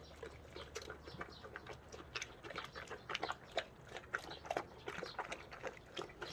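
Large Cane Corso dog chewing dried pollack, with wet crunching, gnawing and smacking in an irregular run of bites, close but fairly quiet.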